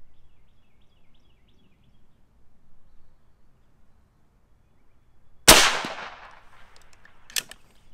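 A single sharp report from a Seneca Dragon Claw dual-tank .50 caliber airgun, loud and close after near silence, with a decaying tail and a smaller metallic click-like impact about two seconds later.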